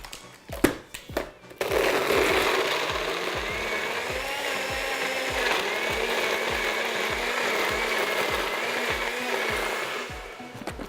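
A NutriBullet blender blends a greens drink with frozen mango, opening with a few clunks and rattles before a loud, steady motor whir with rhythmic churning pulses that runs several seconds and then cuts off.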